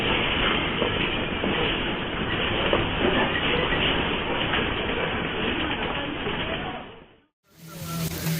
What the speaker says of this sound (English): The storm winds in New Orleans were strong enough to knock a freight train off a high bridge.